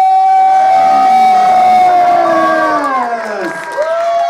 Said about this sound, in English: let's give one huge round of applause for the one,